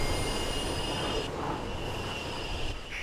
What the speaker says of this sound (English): Why is this train stopping?